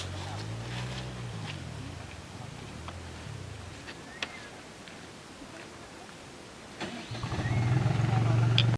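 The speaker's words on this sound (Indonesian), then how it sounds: "akhirnya saya pun mencoba naik motor trail ini" A trail motorbike engine fires up near the end, near Bukit Citro in Lamongan, settling into a steady low rumble after a stretch of voices and background noise.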